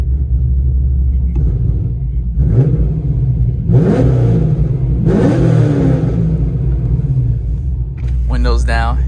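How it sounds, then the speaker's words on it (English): A cammed Camaro SS with headers and true dual straight pipes revs and accelerates in loud, rough bursts, deep rumbling surges rising and falling several times, with a voice briefly heard near the end. "Let's get a little acceleration."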